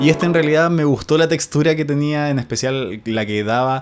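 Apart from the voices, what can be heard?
No everyday noises stand out.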